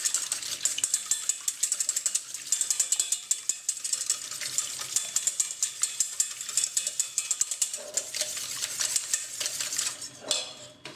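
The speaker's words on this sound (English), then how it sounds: "just whisk the eggs so that they're all broken" Whole eggs, whites and yolks together, whisked by hand in a bowl, giving a steady, fast run of light clinking and scraping taps close by, with no talk.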